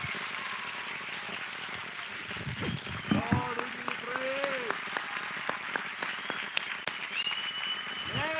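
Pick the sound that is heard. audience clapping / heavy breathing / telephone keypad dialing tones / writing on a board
audience clapping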